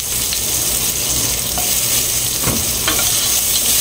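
Dried fish (tuyo) fries in oil, a loud, dense, continuous sizzle close up, with a couple of faint clinks and scrapes from stirring.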